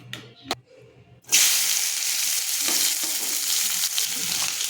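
Chopped onions drop into hot oil and burst into a loud, close sizzle that settles into steady frying after a couple of faint clicks.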